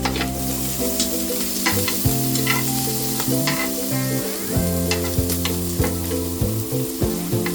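Shrimp sear in butter and olive oil in a hot pan, a steady close sizzle with stirring and scraping, laid under continuous background music, no talk throughout.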